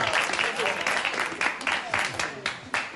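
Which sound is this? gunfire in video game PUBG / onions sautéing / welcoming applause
welcoming applause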